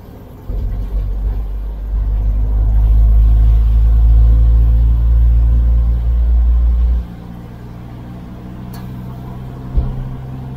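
An old truck drives in third gear, its engine a loud, deep, close rumble that builds and holds for several seconds before dropping off abruptly to a quieter idle-like hum.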